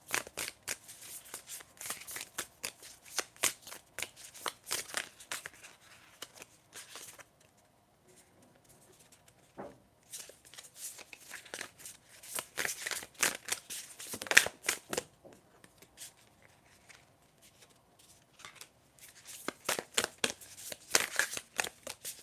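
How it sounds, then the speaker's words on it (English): Tarot cards being shuffled by hand in rapid papery riffles and flicks, close and fairly soft, in bursts broken by a quiet pause midway. "I'm just shuffling to see if I can get some tarot messages for you, Patricia."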